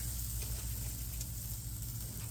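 Prosciutto-wrapped asparagus sears on a grill with a continuous close sizzling hiss over a low steady rumble.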